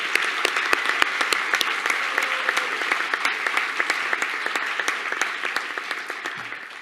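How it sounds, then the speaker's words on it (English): Steady applause from a convocation audience at an automotive business school, a dense even wash of clapping with a few sharper nearby claps standing out, continuing alone without talk. "That deserves a round of applause in itself"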